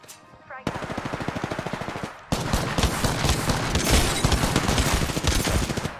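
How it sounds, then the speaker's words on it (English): Rapid automatic gunfire in a video game, loud and close, a steady stream of shots that stops briefly and then resumes as denser, heavier fire, with faint talk underneath. "How do those shots not hit?"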